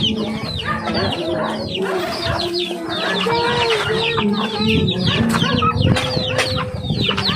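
Native chickens cluck steadily throughout in a rural yard in Lagonoy, Camarines Sur, several birds overlapping in dense, busy calls with occasional faint wing flaps, close and fairly loud, with no talk.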